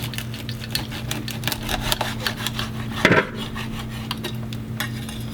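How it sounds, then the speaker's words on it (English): A knife cuts a fish in two on a board for Jamaican brown stew fish, with a run of short close scraping and tapping strokes and one louder cut near the middle. "Now I'm cutting the fish in two"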